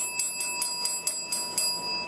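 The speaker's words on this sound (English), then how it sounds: "The big bad mouse kept ringing the bell." A doorbell rings out in a story about a mouse at the door: about eight bright, evenly spaced chimes a quarter second apart, fairly soft and with no voices over them.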